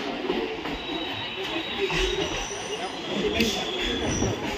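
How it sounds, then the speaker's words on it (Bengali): A local train pulls away from Baranagar Road station with a steady rumble of wheels on rails and a faint squeal, heard from on board with some background voices. "ট্রেন ছাড়লো বরানগর রোড থেকে এর পরের স্টেশনের দিকে।"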